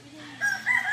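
A rooster crows at a cockfight-style gathering, a rising call swelling partway through the second and holding loud to the end, with people talking around it.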